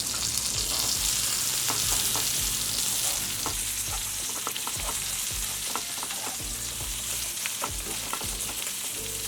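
Eggplant slices fry on low flame in a pan, with a steady close sizzle and light crackle throughout, punctuated by soft clicks and scrapes of turning.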